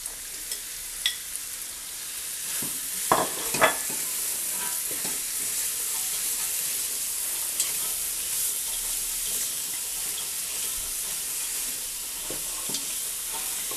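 Leeks, carrots and celery frying in a pan, a steady soft sizzle throughout with occasional clatters from stirring and a few brief knocks, close and moderately loud, no voices.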